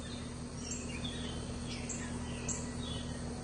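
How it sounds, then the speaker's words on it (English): Birds chirp faintly at a distance in a humid early-morning neighborhood, scattered short calls over a low steady hum, with no one speaking. "Got the birds singing."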